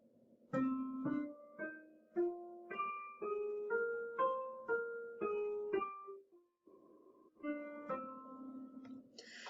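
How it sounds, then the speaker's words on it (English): A melodic instrument plays a series of stepwise notes, a natural minor scale, ending with a few more notes after a short pause. "our natural minor scale sounds like this"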